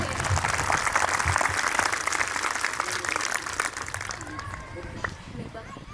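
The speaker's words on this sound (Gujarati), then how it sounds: "તાળીઓનો ગડગડાટ એવો હોવો જોઈએ કે આખા ગરણી પાનસડામાં સંભળાય અને ધ્રુજી ઉઠે" Loud, sustained clapping from a large crowd fills most of the stretch, thinning out toward the end as a few voices and scattered claps remain.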